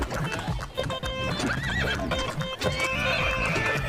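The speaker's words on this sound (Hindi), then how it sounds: "सेठानी ने घोड़े की रस्सी खींचकर उसे रोका और धीरे धीरे चलाया।" Horse neighing and whinnying with clip-clop hooves of a fast-running horse pulling a cart, set in an animated Hindi comedy story; continuous, loud and close, with music-like tones layered throughout.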